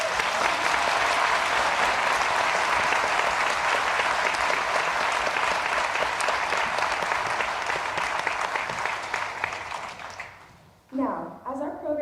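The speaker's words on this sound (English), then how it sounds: "Please join me again in giving Miss Nancy Grace a huge round of applause" An audience at Mercer University's Founders' Day event gives a sustained round of applause for Nancy Grace, dense clapping that fills about ten seconds and then thins out as a voice begins speaking.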